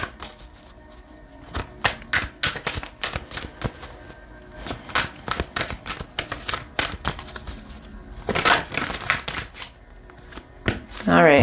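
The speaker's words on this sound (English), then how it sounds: "I'm going to shuffle some more." Tarot cards being shuffled during a pick-a-card reading, giving irregular bursts of crisp riffling snaps and slaps at close range with short pauses between, alone without talk.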